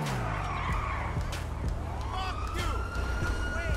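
A Nissan 370Z drifts in GTA V, its tires squealing in repeated rising and falling screeches over steady engine noise while someone talks excitedly over the action.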